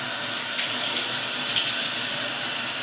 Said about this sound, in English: I'm rinsing out a straw.